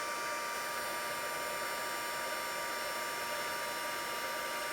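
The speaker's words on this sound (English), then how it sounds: "we're going to take the heat tool" A heat tool blows steadily to melt embossing powder, a constant even whoosh of hot air close by with no breaks or changes in level.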